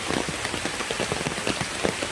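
Heavy rain pours down in a dense, steady patter on surfaces, a close, uniform wash of drops with no voices.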